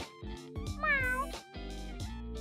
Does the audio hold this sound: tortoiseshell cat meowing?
yes